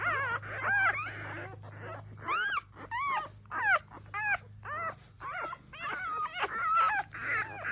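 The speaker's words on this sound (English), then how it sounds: "Little cry baby here. Little cry baby. I think they're about a week old now at this point." Week-old American Bully puppy crying in repeated high whimpers and yelps, close and loud, in a steady series of short cries over a low background hum.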